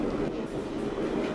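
A subway train sits at Castle Hill Avenue station in the train simulator game Hmmsim 2, giving a steady, moderately loud rumble and hiss of the train at the platform with no voice heard.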